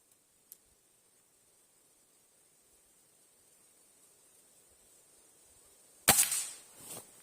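A single sharp crack of a Hatsan 125 air rifle firing JSB pellets at 20 metres bursts out near the end of a quiet stretch, with a faint earlier click and brief rustling after the shot.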